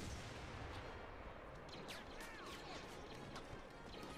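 Dense, continuous gunfire and blaster-like bursts from Star Wars: Battlefront, a steady wall of overlapping shots with a few sweeping zips, loud throughout with no talk.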